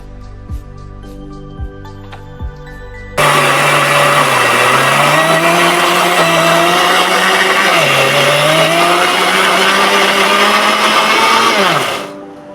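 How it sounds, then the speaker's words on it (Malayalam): After a few light clicks, a kitchen blender grinds roasted coconut loudly and close for about nine seconds in a steady whirring roar, then winds down and stops. "നമുക്കിനി വറുത്ത് വെച്ച തേങ്ങ നമുക്കൊന്ന് അരച്ചെടുക്കാം"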